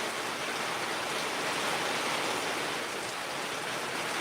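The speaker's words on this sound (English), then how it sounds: "the heavy pitter patter sound or downpour every now and then you hear, and it sounds like a whoosh" Heavy rain pours onto a porch roof during a hurricane, a dense, continuous hiss and rush that stays steady and loud throughout with no voices.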